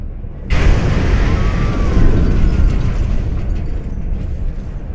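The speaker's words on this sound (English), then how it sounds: "What was that? An explosion, but not one of ours." A sudden loud video game explosion erupts after a brief quiet moment in Mars: War Logs, then a heavy rumbling roar sustains and slowly fades, with a faint whine above.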